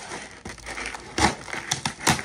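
Hard plastic clamshell packaging around a paintball pistol being pried and torn open, heard as close, irregular crinkles, cracks and crunches in short bursts.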